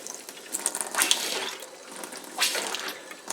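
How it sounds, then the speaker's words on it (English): Hissing, sputtering rush of water and air purging through an Eagle fifth-wheel RV water line during winterizing, with uneven bursts and gurgles, fairly close and without voices. "right now we're just getting all the water or air out of the line"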